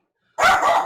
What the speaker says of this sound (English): my son is coming home from work, so now the dog's gonna go crazy